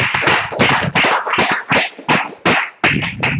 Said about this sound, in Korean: 여러분 다시 한번 뜨거운 박수로 맞아주시다